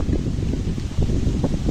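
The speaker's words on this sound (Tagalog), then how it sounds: "Lakas ng hangin ah." Strong wind buffeting the microphone in a steady low roar, gusting slightly, with no voices.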